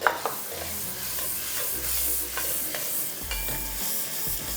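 Green chilies and chopped onions frying with ginger and garlic for dal makhani, with a steady bright sizzle, a few spatula scrapes and low rumbling bursts underneath, close by.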